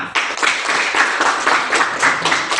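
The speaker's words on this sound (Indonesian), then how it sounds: "Tepuk tangan untuk kita semua." A classroom group claps together for a couple of seconds, dense and steady applause close by with no talking over it.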